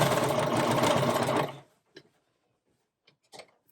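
A cover stitch machine sews sweatshirt fabric in a close, rapid whirring burst lasting about a second and a half, then stops, followed by a few faint clicks and handling noises.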